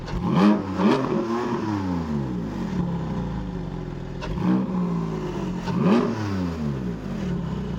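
A Porsche Boxster GTS 4.0-litre six-cylinder boxer engine idles with a deep, throaty rumble and is blipped sharply several times, each rev rising quickly and falling back.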